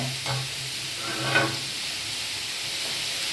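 Radish chutney ingredients fry in a pan with a steady close sizzle and hiss, plus a few soft stirring scrapes, with no voices over it.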